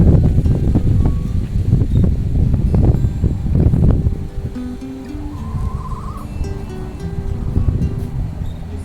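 Wind buffets and rumbles against the microphone in a garden, heavy at first and then easing into a lighter, steady blow with faint outdoor noise.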